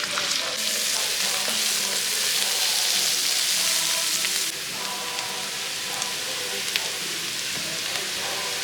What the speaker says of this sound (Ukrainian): Смажимо цибулю